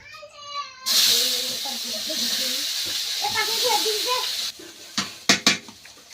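Potatoes dropped into hot oil in a frying pan set off a sudden loud sizzling hiss that carries on for several seconds while people talk over it, followed by a few sharp clatters of the pan.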